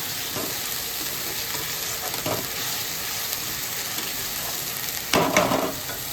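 Tangra fish curry cooking in a pan makes a steady sizzle throughout, with a few soft scraping stirs and a louder clatter near the end. No one speaks.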